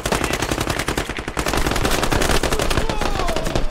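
Rapid automatic gunfire in the military shooter Squad, dense continuous bursts of loud close shots filling the whole stretch with no pause.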